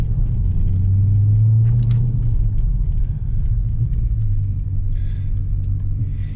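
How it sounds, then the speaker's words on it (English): Inside the cabin of a 2023 Dodge Challenger Scat Pack with mid muffler and resonator deleted, a deep, steady exhaust drone hums continuously while driving, loud and close, with faint road noise and small interior rattles. "the drone is so loud inside the cabin that you can't even have a conversation with the person next to you from how loud the exhaust is"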